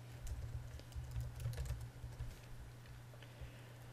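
Password typed on a computer keyboard: a quick run of light, clicky keystrokes at close range, irregular in rhythm over a steady low hum, with no one speaking.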